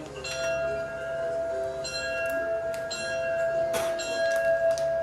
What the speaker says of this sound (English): Can we ring the bell?